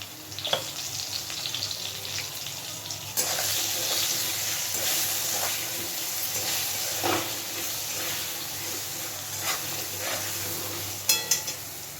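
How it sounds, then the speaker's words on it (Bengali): Potato pieces frying in oil with salt and turmeric, a steady close sizzle with soft crackles and occasional stirring scrapes throughout, growing slightly louder partway and ending with a couple of clinks. "আলুটা সুন্দরভাবে ভাজা হয়ে গেছে"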